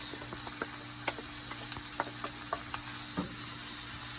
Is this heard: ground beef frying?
yes